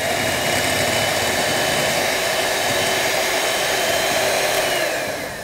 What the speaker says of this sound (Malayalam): ഇത് ഏകദേശം ഒരു 3-4 മിനിറ്റ് ബീറ്റ് ചെയ്യണം.